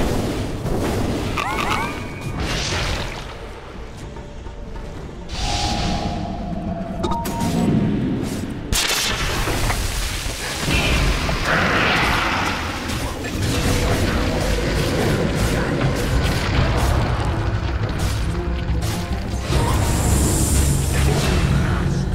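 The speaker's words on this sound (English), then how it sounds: "Dire's bottom tower is under attack." Battle sounds from a Dota 2 match as a bottom tower comes under attack: repeated booms, thuds and bursts layered over a busy, continuous din of game effects, with no voices.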